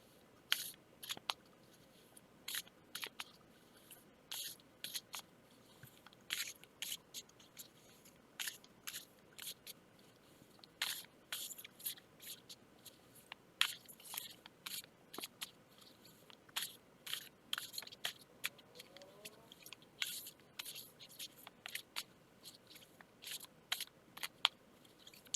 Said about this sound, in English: I'll keep shuffling until a card comes out